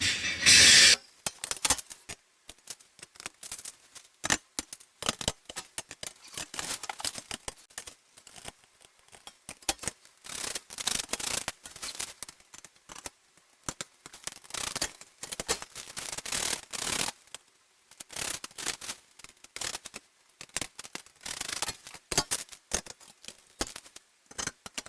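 Plastic shelves of a Lidl shoe organiser being fitted into their frame, giving a close, continuous run of clicks, creaks and scraping knocks in irregular bursts, with no talking.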